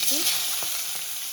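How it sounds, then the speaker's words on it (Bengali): Cumin seeds and bay leaf hit hot oil for a Bengali tempering, giving a steady close sizzle with a couple of small crackles over about a second. "তেলটা গরম হয়ে গেছে, জিরে তেজপাতা ফোড়ন দিলাম"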